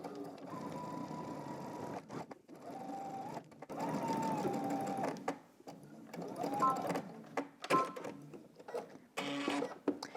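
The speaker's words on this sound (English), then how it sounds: "now you can go ahead and do your top stitching" A sewing machine runs in several bursts of top stitching along a pants seam, a quarter inch from the seam, with short pauses between runs and light handling noises.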